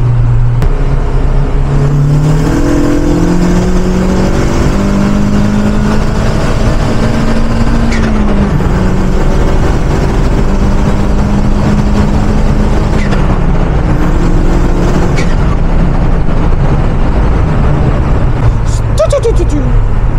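Car accelerating at full throttle in fourth gear with the clutch still slipping early in the gear, a loud, continuous engine drone whose pitch climbs steadily and steps with the revs over about twenty seconds, with a voice talking over it.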